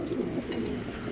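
Low, rolling coos come from a round-bodied breeding pair of pigeons offered for sale, a brief close murmur with no talking over it.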